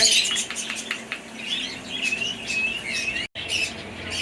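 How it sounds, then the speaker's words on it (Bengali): A pet bird gives repeated close squawks and chirps with bursts of wing flapping, steady and fairly loud, and one very brief dropout near the end. "পাখি সবসময় ঘাড়ে এবং মাথায় বসতে পছন্দ করে।"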